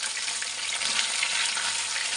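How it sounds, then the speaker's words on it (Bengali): Pomfret fish fry in a pan, giving a dense, steady, loud sizzle of hot oil that hisses continuously without pause, heard alone up close. "এই যে মাছগুলো দিয়ে দিলাম, এখন ভাজা হবে।"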